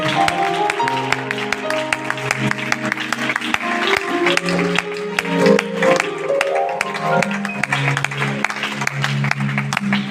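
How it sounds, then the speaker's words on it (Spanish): A church congregation claps together over music with sustained tones, the sharp hand claps steady and fairly loud across the whole stretch. "¿Le puedes dar un aplauso a Dios y a su palabra?"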